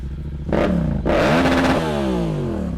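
A motorcycle with an aftermarket exhaust idles with a deep rumble, then revs up sharply twice, the exhaust roaring loudly before settling back down.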